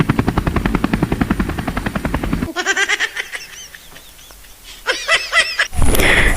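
A helicopter's rotor beats in a fast, even, loud chopping pulse for about two and a half seconds. Sharp tonal chirps and other sounds follow.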